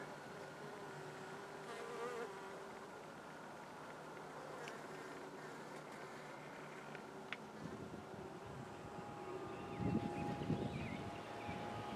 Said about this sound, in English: a bunch of bees hanging out